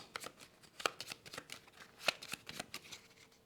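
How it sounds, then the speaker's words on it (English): Playing cards from the board game SETI shuffled by hand, quiet and close, in a series of short riffling bursts with a couple of sharper snaps. "When they pass, they're going to shuffle these cards"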